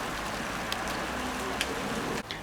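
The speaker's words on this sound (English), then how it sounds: "it's raining right now as we speak" Steady outdoor rain hisses evenly throughout, with a few sharper drips and taps breaking through the close, constant patter.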